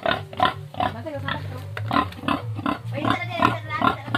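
A pig grunts over and over at close range, a steady run of short, rhythmic oinks with a low drone underneath.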